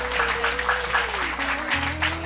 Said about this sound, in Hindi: तो जोरदार तालियां बजाइए हमारे साथियों के लिए